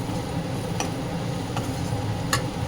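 Turmeric stirred into chicken curry in a pan, a soft continuous scraping and sizzle with three sharp spoon taps against the pan spaced out over a few seconds, no speech.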